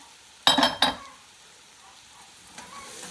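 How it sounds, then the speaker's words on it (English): Vegetables for a homestead soup are stirred in a pot. Two quick scraping, sizzling bursts come close together, then a quieter simmer follows with a faint clink near the end. "we'll stir and cook it all for about 5 to 7 minutes"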